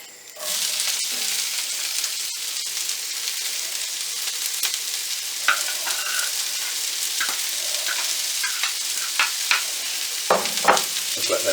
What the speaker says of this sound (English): We want to fry off the onions.